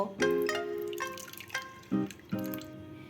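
Blended tomato paste poured from a blender jar into a small bowl, giving a few close, distinct wet plops and drips spaced over a few seconds with no talk.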